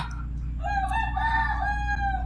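A rooster crows once, a long wavering cry over a steady low hum.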